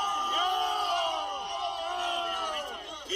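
A large protest crowd shouts and yells together in a sustained, dense roar of overlapping voices, heard at a moderate distance.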